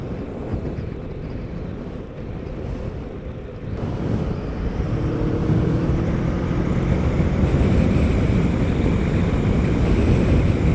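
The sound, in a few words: wind noise on motorcycle helmet visor at speed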